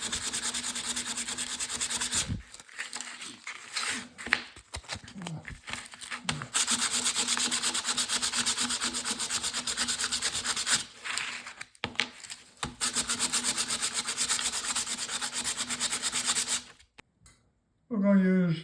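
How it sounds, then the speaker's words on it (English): Sandpaper rubbed hard over metal to clean it before soldering, in long continuous scrubbing passes with a few short pauses, loud and close. "So I like to take a piece of sandpaper and clean it off."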